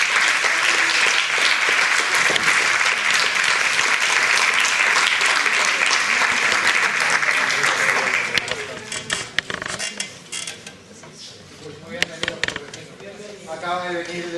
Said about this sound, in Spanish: Quiero pedir un aplauso para el profesor José Regino Peña.